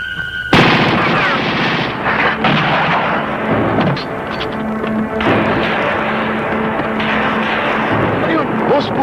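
Dense, loud gunfire and booming blasts from a 1989 Filipino action film fill the scene continuously, with shouting voices mixed into the chaotic battle noise.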